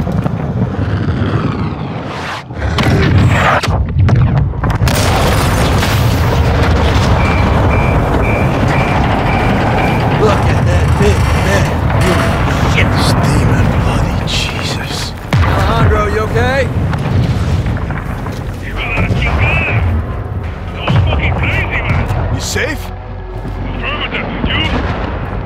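A massive explosion destroys a missile and its rig in the Call of Duty Modern Warfare 2 Darkwater mission, a sustained loud roaring blast with rumbling debris that carries on for many seconds, with radio voices talking over it.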